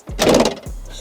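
Land Rover Defender 110 door pulled shut, a close, solid thunk with a brief metallic rattle, followed by a low steady rumble continuing afterward.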